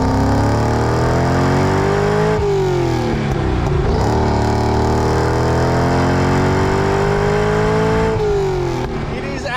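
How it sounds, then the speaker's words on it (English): A V8 car engine pulls hard and loud through the gears, its note climbing steadily, dipping at each shift around two and eight seconds, then rising again with continuous close, throaty power. "Let's just take it through the gears again and absorb that lovely V8."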